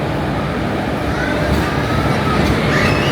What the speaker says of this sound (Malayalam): എറണാകുളത്തേക്കുള്ള ട്രെയിൻ ഇതാ വന്നു കേട്ടോ